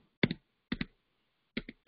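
Keystrokes on a computer keyboard come in close, crisp pairs of clicks separated by short pauses, in an otherwise quiet room.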